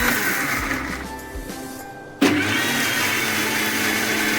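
Blender grinding almonds with milk for badam halwa: a loud whirring motor that runs, briefly stops, then restarts at full roar and keeps grinding steadily with no talk.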